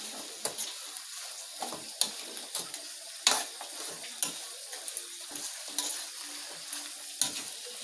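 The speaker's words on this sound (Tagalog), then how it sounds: "So, haluan natin mga lodi." Native chicken adobo in coconut milk being stirred in a pan: a steady soft sizzle with repeated sharp scraping clacks of a utensil against the pan at an irregular rhythm, close and alone.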